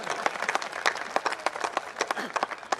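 Audience clapping at a comedy poetry show in Jodhpur, a dense patter of many hands sustained throughout, moderately loud and lively.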